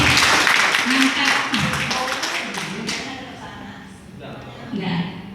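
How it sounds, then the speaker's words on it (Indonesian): An audience claps for a teacher at a digital literacy presentation, a brief patter of hands heard under a man's ongoing speech that gradually fades. "Tepuk tangannya Bapak Ibu untuk Ibu ini"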